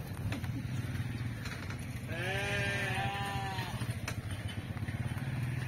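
Several sheep bleat together in a farmyard, a run of wavering calls over steady background noise with an engine-like hum beneath, fairly close.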